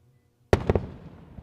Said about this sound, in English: We didn't talk over the sonic boom.